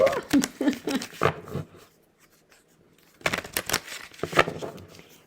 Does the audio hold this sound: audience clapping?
no